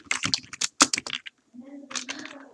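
Typing on a computer keyboard, a quick run of close, crisp keystrokes, then a pause and a quieter stretch of clicks with a faint hum underneath.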